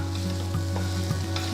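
Mashed boiled potatoes stirred in a frying pan with a constant close sizzle, a steady hum underneath and a few soft scraping knocks of the spoon, with no voices.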